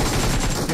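An MG3 machine gun in PUBG Mobile fires a rapid, dense burst of shots, loud and close, filling the whole brief moment without talk.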